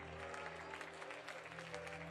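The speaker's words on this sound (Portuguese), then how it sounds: "dê uma linda salva de palmas" A church congregation claps together in a steady, fairly distant wash of applause, with a low electronic hum or organ tone underneath and a few voices faintly mixed in.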